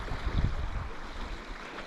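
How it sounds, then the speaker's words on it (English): A creek swollen high from weeks of snow and rain, a mountain feeder stream, gives a steady close rushing wash with a low rumble, alone and without speech. "It's nice as the creek is up."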